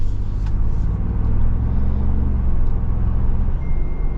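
A 2025 Lexus GX550 or 2025 Ford Bronco with Bilstein position-sensitive shocks drives along, giving a loud, steady low engine and road rumble from inside the cabin with no voices.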